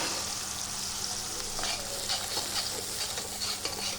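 Onion paste frying in a pan for paneer curry, a dense continuous sizzle and crackle close by, with faint stirring scrapes and no pauses.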